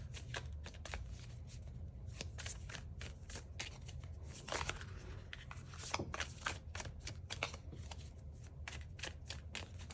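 A deck of cards shuffled during a card reading, a rapid series of soft close riffles and slaps over a low steady background hum, with no talk.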